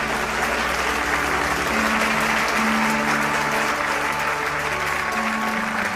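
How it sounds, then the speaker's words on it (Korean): A large crowd at a memorial festival ceremony applauds in a loud, dense, steady roar of clapping that holds evenly throughout, with a faint tonal background underneath. "다시 한번 천지인 참 어머님께 큰 감사의 박수를 올려주시면 좋겠습니다"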